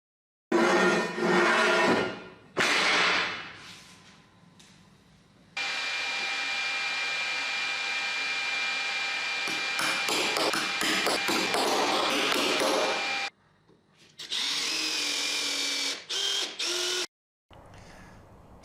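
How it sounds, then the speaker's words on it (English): A router moves slowly over a surface of epoxy and wood, giving loud bursts of high motor whine separated by short silences. One long pass runs steadily for several seconds, and no voices are heard. "So just put your router as slow as possible and take your time."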